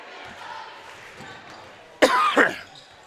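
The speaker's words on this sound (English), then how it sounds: "I may break into coughing fits" A man's sudden, loud cough of two quick bursts near the microphone, coming after a stretch of quiet background murmur in a high school gym during a junior varsity boys basketball live stream.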